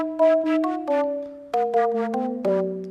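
A sequence of sustained Haken Continuum synthesizer notes with a soft, breathy, wind-like edge, each swelling in and shifting pitch, played alone.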